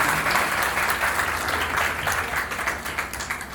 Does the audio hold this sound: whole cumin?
no